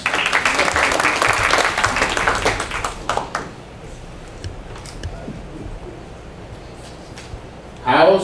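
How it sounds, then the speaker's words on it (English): Audience applauding at a campaign forum, a loud burst of clapping for about three seconds that fades away, then near silence before a new sound starts at the end. "Give her a round of applause."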